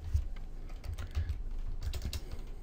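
Quick, steady clatter of keys on a computer keyboard, heard close and fairly quiet, a short burst of continuous typing with no voices.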